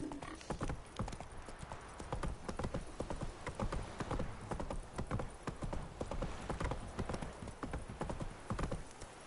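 Roach, a horse in The Witcher III, trots in a steady, close clip-clop rhythm of hoofbeats that runs continuously throughout.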